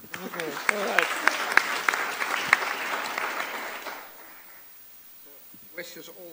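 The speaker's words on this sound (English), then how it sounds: "Applause for him, please." An audience claps and applauds for a few seconds, then the applause fades out into near silence.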